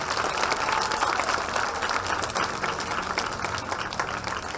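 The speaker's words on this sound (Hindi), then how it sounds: "जोरदार तालियों से स्वागत करें" An audience at a religious gathering led by a swami gives loud, sustained applause, a thick continuous wash of many hands clapping with no voices over it.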